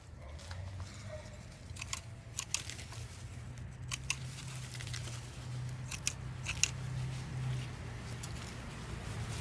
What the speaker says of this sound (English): Cutting off the dead leaves.